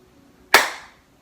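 A single sharp clap of hands overhead during a yoga stretch, crisp and close with a short decaying tail, alone in a quiet room.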